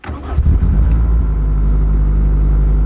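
A supercharged Caterham cranks and fires, settling at once into a loud, steady, rumbling idle with no voices over it.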